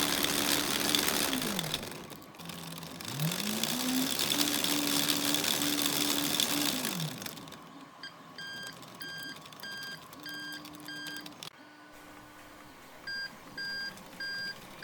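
Tank tracks and a sprocket driven by hoverboard motors whir at 80% throttle, a loud motor whine rising and falling as it speeds up and slows, then quieter idling with repeated short electronic beeps.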